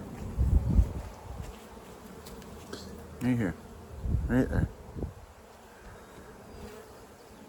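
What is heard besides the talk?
bees buzzing in hive as a bee emerges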